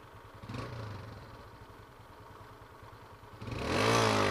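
A Yamaha Factor 150 motorcycle idles at a traffic light with a close, steady mid-pitched engine note, then revs up and pulls away louder in the last second.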